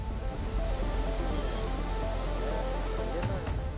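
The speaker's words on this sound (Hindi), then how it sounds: "अचानक से पानी प्रचंड वेग से आया और हर तरफ सैलाब बह निकला।" Floodwater surging with great force, a dense continuous rushing roar of churning water that stays loud and steady throughout, with a brief burst of splashing near the end.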